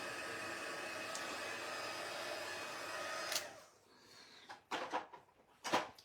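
A heat gun used for craft embossing blows a steady, loud rushing drone for about three seconds, then cuts off, leaving a few short handling bumps and rustles.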